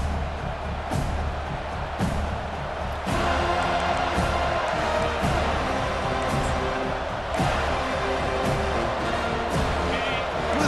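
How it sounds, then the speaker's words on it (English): A stadium crowd in EA Sports College Football 25 roars steadily through a loud, noisy early-game atmosphere, with a few sharp thumps and a commentator speaking over the din. "Listen to the crowd energy here in the early going."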